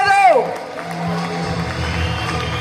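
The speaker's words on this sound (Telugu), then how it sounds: "సార్కి ఒకసారి గ్రాండ్ గా క్లాప్స్ ఇద్దామా?" An audience at a session in Vizag, cheering and clapping for a guest after being urged to applaud. A voice rings out briefly at the start, then a steady roar of crowd noise and clapping continues throughout.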